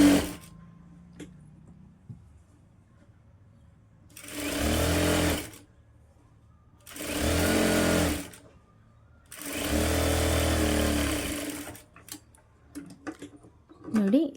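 A sewing machine stitches blouse lining cloth in three bursts of a few seconds each, a whirring, rhythmically pulsing motor hum separated by quiet pauses with small handling clicks, close by.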